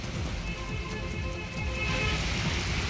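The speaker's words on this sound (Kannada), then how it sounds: "ಕೋಲಾರ ಜಿಲ್ಲೆಯ ಹಲವೆಡೆ ಗುಡುಗು ಸಹಿತ ಧಾರಾಕಾರ ಮಳೆಯಾಗಿದೆ" Heavy rain pours steadily in Kolar district during a thunderstorm, a dense, constant patter on surfaces with no distinct thunderclap in this stretch and no talking.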